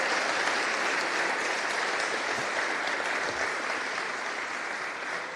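Steady, dense applause from the crowd at the Rootstock Summit 2022 fills the whole stretch, holding a broad wash of clapping that tapers slightly toward the end.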